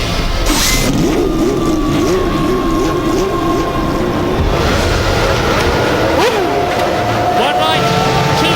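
Formula 1 cars revving on the grid at a race start in Formula 1 99, a loud continuous engine drone with rising and falling pitch sweeps, under a commentator's voice.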